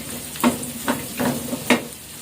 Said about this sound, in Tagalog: lalagay natin yung tokwa